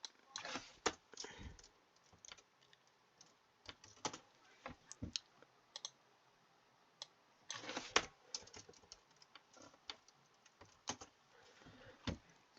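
Quiet, irregular typing on a computer keyboard, with scattered bursts of keystrokes separated by short pauses and a few louder clusters of clicks, heard alone without any voice.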